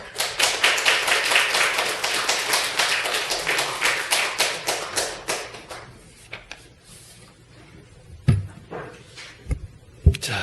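Congregation at a Sunday church service applauding to welcome a missionary, dense rapid clapping for about five seconds that fades out, followed by a few scattered thumps and taps in a quiet room.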